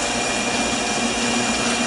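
Continuous dense machining noise from a metal lathe cutting steel with chips breaking into short pieces, a steady close broadband whir with a faint tonal hum, no talking.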